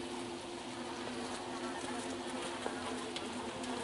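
Honeybees buzz steadily during a gentle colony rescue, a dense close hum of many insects with a faint low drone underneath and no talking.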